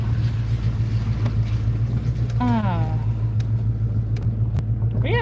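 Steady low engine rumble and road noise inside a moving car, continuous and fairly loud throughout, with a brief voice rising over it near the middle.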